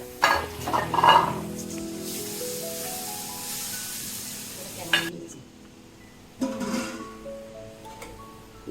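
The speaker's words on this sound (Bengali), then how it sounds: "এখন আলুগুলো ভাজবো, কুমড়াগুলো ভাজবো" Potatoes and pumpkin coated in salt and turmeric frying in a pan: an up-close sizzle with clinks of a utensil early on, settling quieter before a couple of fresh bursts of stirring.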